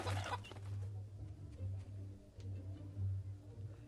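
A chicken in the video game Fable Anniversary clucks in short, repeated bursts against a steady low game hum. Several moderately loud clucks are spread across the clip.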